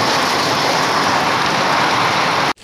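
Heavy rain pours during a thunderstorm in the Altai region, a loud dense continuous hiss throughout that cuts off abruptly at the very end.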